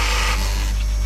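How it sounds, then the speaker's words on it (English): Gates opening in a reverse osmosis water unit for a koi pond give a loud hissing rush that fades after a moment over a heavy, constant low hum, with no one talking. "So the big noise you can hear is the gates opening there"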